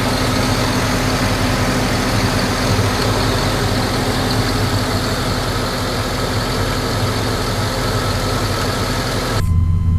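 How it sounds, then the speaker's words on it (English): A 6.0 liter engine idles in a 1996 Z71 truck, a steady, smooth, low rumble with even pulsing, close and loud throughout without a break in tone. "Okay, we've got the engine started now."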